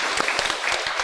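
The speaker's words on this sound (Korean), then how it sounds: "박수하겠습니다. 은혜 받았습니다." A church congregation at a Sunday service breaks into brief, dense applause. It is a full, continuous patter of many hands, heard close.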